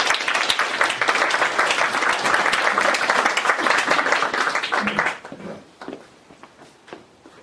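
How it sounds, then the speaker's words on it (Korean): Lecture audience at a philosophy colloquium gives dense, sustained applause that cuts off abruptly after about five seconds, leaving a few scattered claps and faint room noise. "큰 박수 부탁드립니다."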